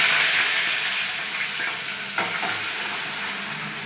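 Ginger goes into hot oil with cumin in a pan, giving a close, continuous crackling sizzle with a brief sharper burst midway, no voices present.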